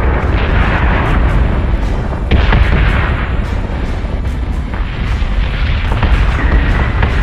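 Starship weapons fire in the video game Battlestar Galactica Deadlock as a loud, continuous barrage of booming cannon blasts and rumbling explosions, with periodic sharp reports repeating throughout.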